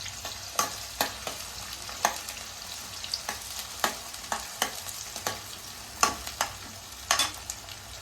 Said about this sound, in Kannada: ಈರುಳ್ಳಿ ಚೆನ್ನಾಗಿ ಸ್ವಲ್ಪ ಫ್ರೈ ಆಗಿ ಒಂದು ಸ್ವಲ್ಪ ಕಲರ್ ಚೇಂಜ್ ಆಗಬೇಕು